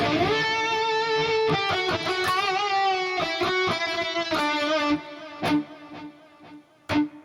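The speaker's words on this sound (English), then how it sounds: "Digital delay HQ sounds good to me, to be honest." An electric guitar plays sustained notes through the Digital Delay HQ effect of a Hotone Ampero II Stage; after the playing stops, faint echoing repeats fade out one by one.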